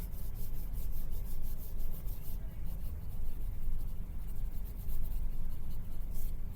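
A pencil shades a portrait drawing on paper, shaping the bridge and sides of a nose in a close, steady scratchy rubbing of continuous strokes at low volume.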